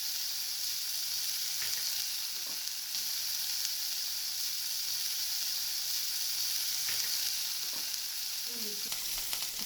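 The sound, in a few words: capsicum frying with ginger garlic for chilli chicken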